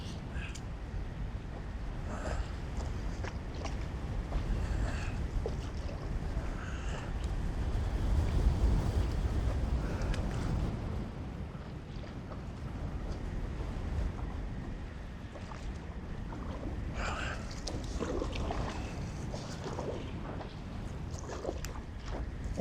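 Paddling a small boat on an Adirondack lake against strong wind, with steady wind rush and water noise throughout, faint paddle splashes and sloshing, and moderate, continuous background roar.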